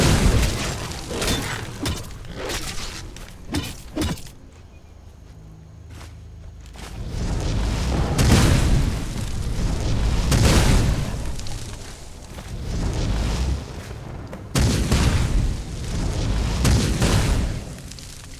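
Fire destruction spells are cast in the game Skyrim, producing loud, roaring bursts and booming blasts in repeated waves, separated by a brief lull.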